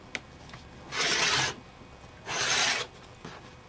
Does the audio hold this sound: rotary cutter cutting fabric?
yes